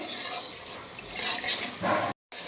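Whole spices, dried chilli, bay leaf, cumin, cinnamon and cardamom, frying in hot oil over a medium flame, a steady close hiss and crackle with brief surges of sizzle and a short dropout near the end.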